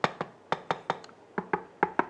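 Knuckle taps on the shell of an ALV Genesis full-face helmet with a silver visor, about a dozen short, close, dry knocks in an uneven rhythm, quiet and alone.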